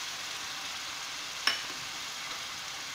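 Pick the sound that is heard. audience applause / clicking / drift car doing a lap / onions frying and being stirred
onions frying and being stirred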